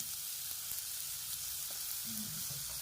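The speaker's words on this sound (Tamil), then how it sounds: "இதோட துணியை பிடிச்சி கொஞ்சமாக எண்ணெய் ஊற்றிடுங்க." Oil sizzles on a hot tawa for chilli chicken, a steady close-up hiss that holds evenly throughout, with a few faint clinks and no talking.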